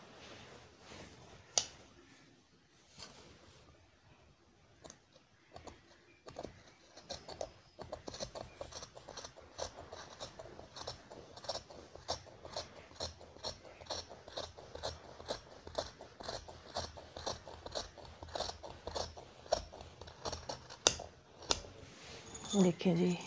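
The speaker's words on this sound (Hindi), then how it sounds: "यहाँ तक क्या तकरीबन मैं यहाँ से कटिंग करूँगी" Scissors cutting cloth for a ladies suit, a long run of sharp, rhythmic snipping clicks growing busier toward the end, close by, with someone talking at times.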